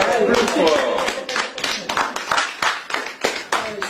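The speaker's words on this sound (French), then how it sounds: "Ça mérite un applaudissement." Several guests at an informal congratulatory drinks get-together break into applause, a quick run of close, uneven hand claps following a voice at the start.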